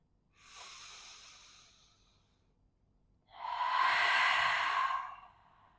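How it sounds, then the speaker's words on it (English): Two slow, deep breaths during a calm yin yoga session, a softer inhale followed by a louder, fuller exhale, close and alone with no talking. "One more deep breath."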